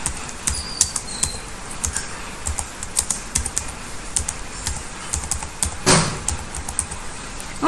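Rapid typing on a computer keyboard while writing in a word processor, a steady patter of close, crisp key clicks with a few louder strokes, no voices.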